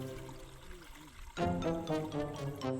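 Diesel fuel glugs and streams as it is poured from a container into an overlanding vehicle in the Okavango Delta, a steady rushing pour starting partway through after a quieter stretch with faint voices.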